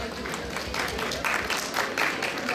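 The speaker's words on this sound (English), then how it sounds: "Can we have a round of applause for all the performers?" An outdoor festival audience with vendors and dancing gives a round of applause for the performers, a soft, steady patter of many hands at moderate distance, swelling slightly in bursts.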